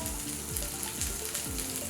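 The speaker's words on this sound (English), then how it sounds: "That sound, that sizzle." Steady, dense sizzling of cauliflower searing in a hot pan, a loud continuous crackle with no voices.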